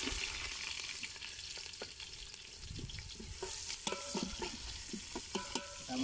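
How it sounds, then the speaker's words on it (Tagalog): Garlic and ginger sauté in a hot pan, giving a steady broadband sizzle with scattered stirring scrapes and clicks, close and continuous with no talk. "Ano po tayo, mag-agisa ng bawang."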